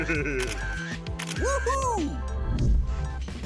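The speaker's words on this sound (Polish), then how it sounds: "Na każdej imprezie potrzebna jest sesja foto. Tak, zróbmy zdjęcia." Camera shutters click a few times in quick sharp bursts during a Halloween party photo session, heard beneath a voice that keeps talking throughout.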